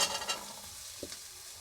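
Carrots fry in mustard oil in a pan with a steady, fairly faint hissing sizzle, which is slightly louder at the start, and one small knock near the middle, heard close up with no talking.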